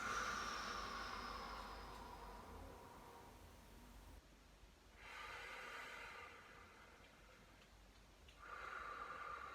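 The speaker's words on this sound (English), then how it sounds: "Couple deep breaths." Slow, deep breaths during a doggie yoga stretching session, soft airy exhales rising and falling in two or three long swells over a steady low hiss, with no talking.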